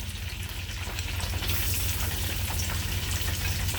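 Garlic frying in oil in a pan for fried rice, a dense, steady sizzle and crackle close up, growing a bit louder partway through, with no talking.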